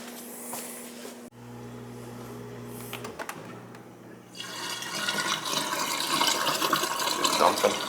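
A dishwasher in a winterized summer home dumps and rinses after the water is turned back on, giving a steady rush of running water that swells louder and fuller in the second half, over a low mechanical hum.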